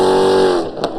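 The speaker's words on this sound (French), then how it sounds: "un bruit de V8 bien" A 1962 Shelby AC Cobra's 400-horsepower V8 holds a loud, close, steady revving note that eases off, then a short sharp burst near the end.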